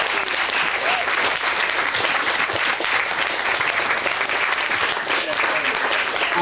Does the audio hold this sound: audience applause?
yes